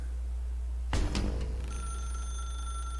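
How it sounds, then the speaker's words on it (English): Telephone in the video game The Stanley Parable begins ringing after a sudden clunk, a steady electronic bell tone sustained over a low constant hum, with no talking. "Now pick up the phone"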